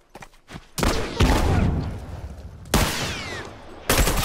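Rifle gunfire in The Last of Us multiplayer, several loud close shots and bursts cracking out in quick succession with echoing tails over a tense battlefield backdrop.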